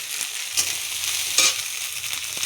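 A paste of cumin, dry chilli, coriander, salt and turmeric frying in a pan, a loud, steady close sizzle broken by a couple of sharp stirring scrapes.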